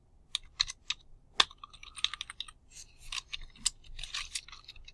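Numbers being typed on a computer keyboard, with irregular bursts of crisp, close key clicks and taps spread over several seconds and no talking.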